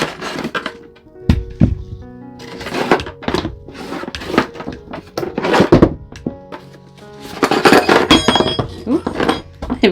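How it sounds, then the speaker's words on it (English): A Resiners heat gun being unboxed: close, irregular thunks, cardboard knocks and plastic clinks as parts are handled and set down, with soft rustling between the louder bumps. "So next up is the Resiners heat gun."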